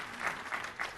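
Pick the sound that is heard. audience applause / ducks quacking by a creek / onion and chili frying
audience applause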